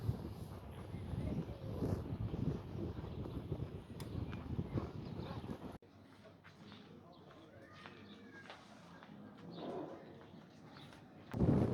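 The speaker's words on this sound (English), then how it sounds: "Got a pretty major headwind" A strong headwind roars and buffets against the microphone while cycling on the Alps 2 Ocean trail, loud for the first half and then easing to a lighter rush with faint outdoor sounds.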